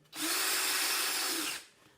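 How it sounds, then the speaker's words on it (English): A power drill drives a screw into a cigar box guitar body in one short, steady whirring burst that starts abruptly and winds down, close and alone. "then just driving the screws in"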